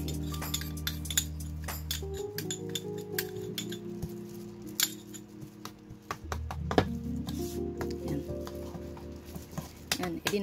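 Spoon mixing seasoned Korean perilla leaves with sesame oil and sesame seeds in a bowl, soft repeated clinks and wet stirring close by, with a low hum behind.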